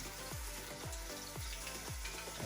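Spare ribs sear in hot oil in a pan over medium heat, giving a steady, close sizzle with recurring rhythmic low thumps underneath.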